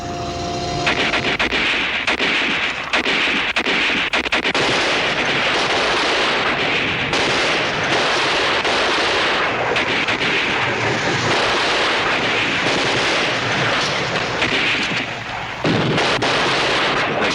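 Artillery fire during a combat adjustment, dense booming blasts and gunfire rolling continuously and loudly over a sustained noisy battlefield din with no clear pauses.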